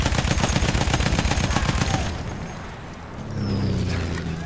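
Rapid automatic gunfire from a video game crackles in a dense burst for about two seconds, then stops. A lower rumble, like an engine or distant blast, rises in the quieter remainder.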